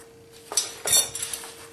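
A metal backpacking cook pot clanks and clinks a few times as it is handled and set down, close by.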